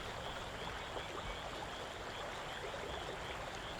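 Water runs steadily through cement-lined irrigation canals, a soft, continuous rushing and trickling that holds an even level throughout, with no voices.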